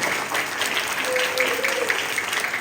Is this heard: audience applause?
yes